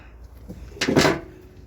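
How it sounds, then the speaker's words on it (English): A creaky car door on a Dodge Durango at a junkyard, heard as one short creaking swing that peaks loudly and fades within about a second, close to the mic and alone. "with a creaky door."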